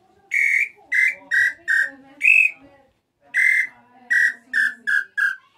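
Hunting call imitating the nambu pé roxo bird with a throat sound: ten short, clear whistled notes, close and alone, in two groups with a brief pause between them.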